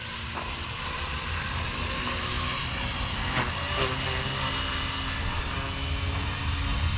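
Small Blade Fusion 180 Smart BNF electric RC helicopter flying outdoors, giving a steady high-pitched rotor and motor whine with a broadband whoosh, constant and fairly near for the whole stretch.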